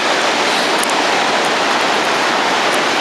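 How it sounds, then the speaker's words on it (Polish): A rushing waterfall on a rainy outdoor hike, a loud, dense and constant hiss of water heard close up with no other sounds breaking through. "jesteśmy przy wodospadzie, pewnie słyszycie ten szum"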